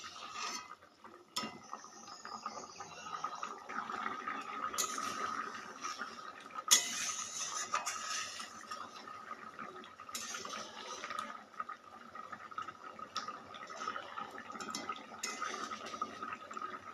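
A pot of potato and egg curry bubbles and simmers on the stove, a soft continuous gurgling with occasional small clinks, faint and close, without talking.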